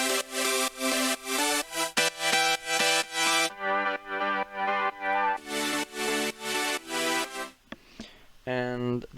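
Layers of progressive house synth saw chords play one after another, each a run of bright, evenly pumping sidechained hits, loud and alone, with a short gap before a final, lower layer.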